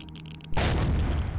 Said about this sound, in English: And let's not even look at the explosion.